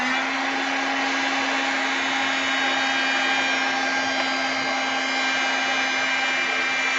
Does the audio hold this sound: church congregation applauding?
no